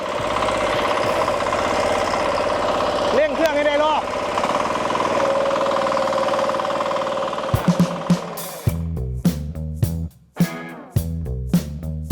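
The engine of a ride-on soil tiller runs loud and close with a rough, pulsing drone, rising briefly in pitch, then breaks into choppy, stuttering bursts near the end.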